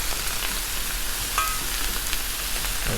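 Pre-cooked smoked sausage frying on a Blackstone griddle gives a steady, moderate sizzle throughout, with no one talking.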